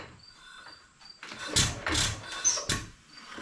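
A 1923 Fairbanks Morse Z hit-and-miss engine is cranked and tries to fire, giving a few short, loud mechanical bursts and chuffs after a quiet start.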